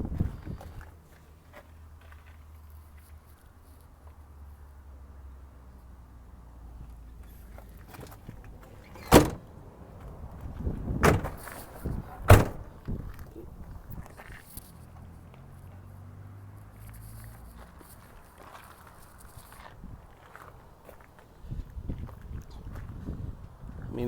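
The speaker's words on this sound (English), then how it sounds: "It's got the barn doors in the rear." The rear barn doors of a 2002 Ford Excursion diesel being handled, with a few sharp latch clunks and door thuds standing out against a quiet outdoor background and faint shuffling movement.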